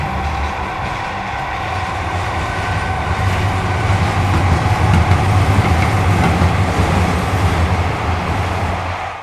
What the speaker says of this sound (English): A goods train was coming and passed by the spot.